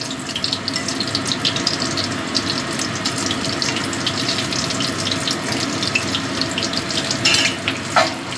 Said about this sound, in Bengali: ডিমটা আমার ভাজা হয়ে গেছে এবার আমি ডিমটা তুলে নিচ্ছি